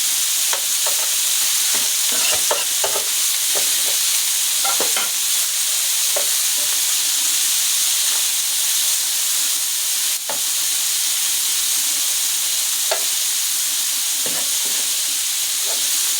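Kofta fries in a hot pan with a loud, constant sizzle while a utensil stirs and scrapes at irregular intervals, close up and with no talk.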